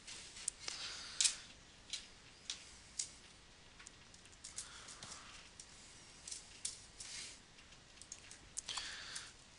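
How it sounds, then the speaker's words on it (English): Small metallic clicks and light clinks come in irregular bursts as three dimes are shuffled together like poker chips, close by and fairly quiet. "the sound of dimes, I'm trying to shuffle like chips 3 dimes together"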